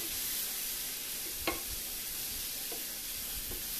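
Apple cider vinegar deglazes a pan of mixed vegetables for a chili cheese quesadilla, giving a steady, soft hiss. A few faint utensil clinks stir through it, with no voices.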